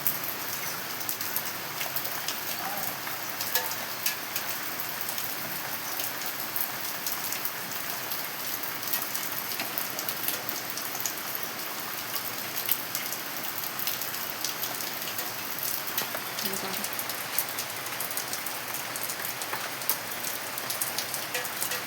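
Heavy rain pours down steadily, a dense hiss of drops with scattered louder splats on nearby surfaces and no voices.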